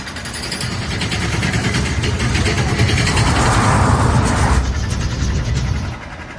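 A motor runs steadily at a treehouse demolition site, a continuous mid-level mechanical drone with rumbling low end that holds fairly even for about six seconds before easing slightly at the end.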